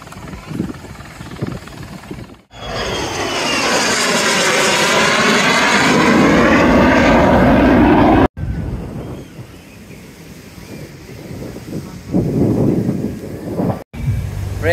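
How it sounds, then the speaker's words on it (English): At an air show, a helicopter draws closer, its loud rotor and engine roar swelling and sweeping overhead, broken by short cuts, then settling into a duller, more distant drone with wind buffeting. "Looks like the chopper has gotten a lot closer."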